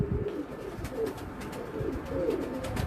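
A pet pigeon coos in soft, low repeated phrases close by, several rolling coos over a few seconds with faint background noise and no talk.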